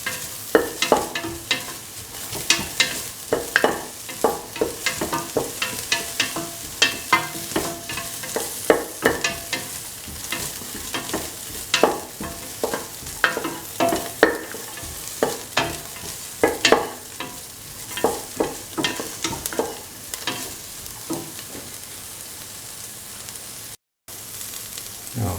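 Onions frying with salt in a pan for an okra, carrot and coconut milk stew: a steady close sizzle under repeated scraping and clacking strokes of a spoon being stirred through the pan.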